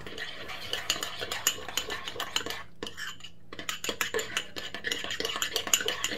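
A spoon scrapes and clinks rhythmically against a bowl while burger sauce made with chili sauce is mixed, the quick close strokes pausing briefly midway before going on, with no voices.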